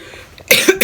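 A single sharp cough, close and loud, following a brief quiet moment, with a short second burst right after.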